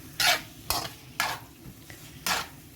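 Chicken pieces and minced garlic sizzling in a pan for teriyaki, stirred in four distinct scraping bursts at a steady rhythm over a constant low frying hiss, close and clear with no talking.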